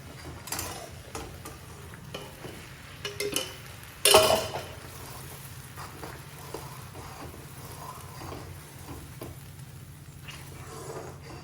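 Sewian vermicelli stirred steadily in a pan, a soft continuous scraping and gentle sizzle with a few sharper clinks of the utensil against the metal, one louder knock partway through.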